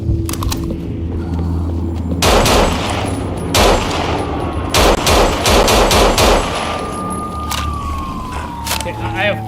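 Bursts of automatic gunfire ring out in the zombie shooter No More Room in Hell, several loud rapid volleys separated by short pauses, with a siren-like tone running through the background and a player's voice talking over the action.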